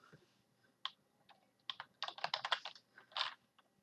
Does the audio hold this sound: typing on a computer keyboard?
yes